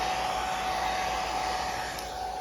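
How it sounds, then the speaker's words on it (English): A small hair dryer running on a low warm setting to dry a cleaned surface before a Kite valve is fitted, giving a steady, close, even whirring hum with a high whine and no talking. "a little hair dryer on low warm"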